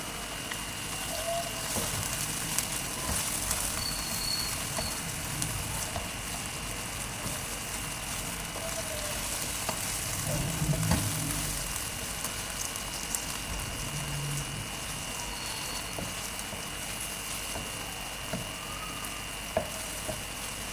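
Mutton pieces frying in a pot with ginger garlic paste for Pakistani-style nihari, a steady close sizzle with occasional stirring clatter and no talking.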